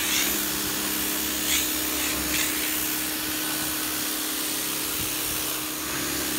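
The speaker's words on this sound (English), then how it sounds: "Now let's start power washing and see how it does" A pressure washer spraying from an expandable garden hose with brass fittings, a loud, steady, close hissing roar with a constant motor hum underneath and brief shifts as the spray moves across surfaces.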